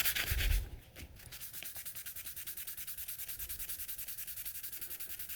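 A Moritaka gyuto knife blade is rubbed with 10,000-grit sandpaper during refinishing: steady, rhythmic back-and-forth hissing strokes, close and continuous after a brief louder scrape at the start, with no talking.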